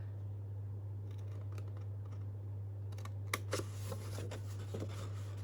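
Small scissors snip through scored paper in a few quiet, crisp clicks, clustered near the end over a constant low electrical hum.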